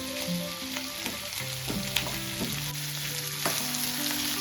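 Onions fry in a well-used kadai with a constant close sizzle, while a utensil scrapes and stirs them in repeated knocks and rasps; faint tonal kitchen noise sits underneath.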